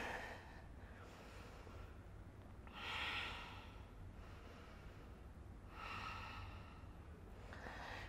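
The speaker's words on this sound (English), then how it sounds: "Take a couple deep breaths here" Slow, deep belly breaths are taken in a standing pose during an upper body cardio flow workout, with a few quiet, airy inhales and exhales that rise and fall.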